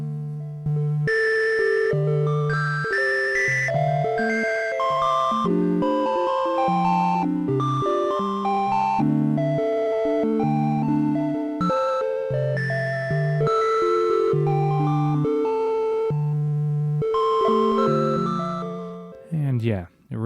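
Trigon 6 synthesizer patch with pan spread turned up, playing a flowing run of bright plucked melodic notes over low sustained tones, continuous and clear with no talk.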